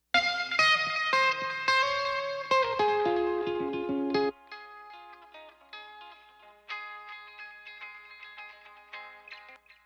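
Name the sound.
electric guitar with delay effect, thin transmitter-emulation echo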